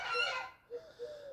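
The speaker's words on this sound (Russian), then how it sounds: "Гуси тоже орут во все." Geese honk close by: a harsh, loud call followed by two shorter nasal honks in quick succession.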